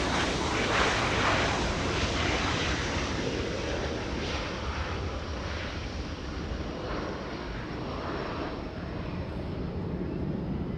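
Jet airliner engines roar loudly and continuously at Los Angeles International Airport, a steady broadband rumble that swells slightly and holds throughout with no pauses.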